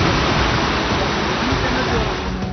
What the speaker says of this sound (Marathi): लेंडी नदीचं पाणी पुलावरून जात असल्यानं